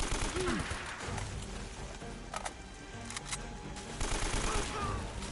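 Rapid gunfire in the video game Uncharted: Drake's Fortune crackles in dense bursts over a steady game soundtrack, with sharp reports scattered throughout and a voice briefly talking.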